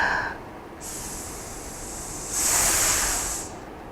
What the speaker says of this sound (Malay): Apabila cikgu hissing yang kedua itu bunyi dia agak kuat sikit kan?